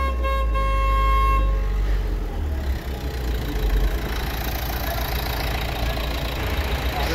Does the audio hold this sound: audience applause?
no